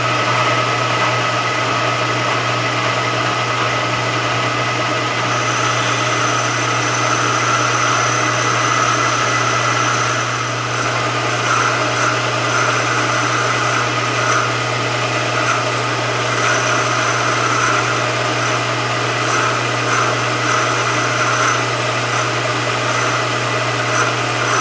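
A boring head on a milling machine makes a final light cut, heard as a steady, loud mechanical hum and whine with a constant low drone and faint ticking, with no speech.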